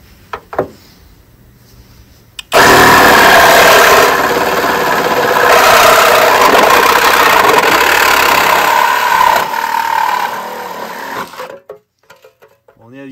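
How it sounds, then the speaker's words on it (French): A power saw blade cuts through the trunk sheet metal of a Renault 4L, a loud, steady, rasping buzz that runs for about nine seconds before cutting off. "j'ai découpé ces morceaux de la malle arrière de la 4L. Alors ça découpe bien, c'est rapide."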